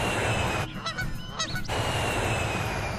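Geese honk in a few quick, nasal calls against a steady background roar, heard twice in short bursts in the middle.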